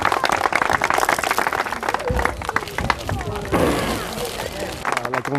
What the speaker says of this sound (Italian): E un applauso a Cristina, signori.